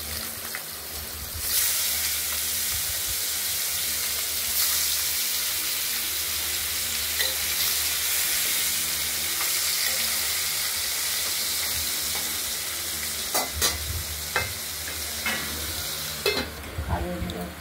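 Spices fry in a hot pan and are stirred, producing a loud, steady sizzling hiss for the whole stretch, punctuated near the end by sharper scraping and clattering strokes of the utensil, with no speech.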